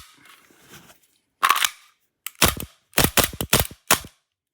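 A Tokyo Marui Sig Sauer P226 airsoft pistol fires about seven sharp, close, loud pops from its original magazine, starting with single shots and then coming in a quicker cluster, with a faint rustle before the first shot.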